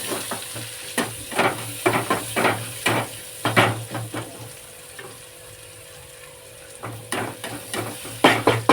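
Onion and chillies fry in a hot pan, a steady sizzle broken by repeated sharp spatula knocks and stirring scrapes in uneven bursts, with a short quieter stretch midway.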